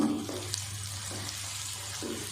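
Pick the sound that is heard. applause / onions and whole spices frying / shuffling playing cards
onions and whole spices frying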